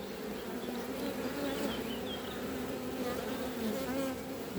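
Honeybees buzz close by during a beehive inspection, a dense, steady droning hum with individual bees whining past at shifting pitches, with no talking.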